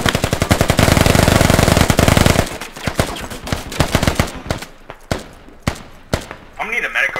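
Heavy machine-gun fire from the tactical shooter game Squad, a long dense burst of rapid shots followed by scattered single and short-burst gunshots, loud and close, with a faint voice near the end.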